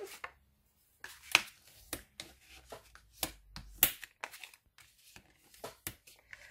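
Paper being pressed and creased by hand while folding a page for a handmade album, heard as a series of sharp crinkling taps and rubs, close and fairly quiet, with pauses between.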